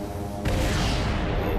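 A torpedo launches in Sid Meier's Starships with a sudden loud whoosh-like burst that swells and holds as a broad, roaring rush over game background sound.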